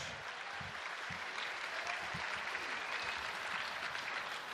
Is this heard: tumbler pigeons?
no